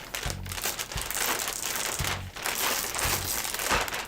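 A plastic microclimate storage bag being sealed, its zipper pull slid back and forth along the track in a few crinkly, rustling passes close up, with no talking.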